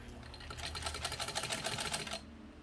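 A 1948 Singer 15 sewing machine runs in reverse, its needle clattering in a fast, even rhythm for about two seconds before stopping abruptly.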